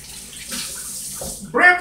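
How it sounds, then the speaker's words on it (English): Hands washed under a running tap in a home kitchen, a soft steady wash of water that swells into a louder splash near the end. "Let me wash my hands. So while I'm washing my hands"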